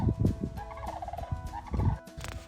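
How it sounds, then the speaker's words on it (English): A flock of farm geese calls in repeated, chattering bursts, fairly loud and close, with the cries overlapping one another and no talk. "There are so many geese."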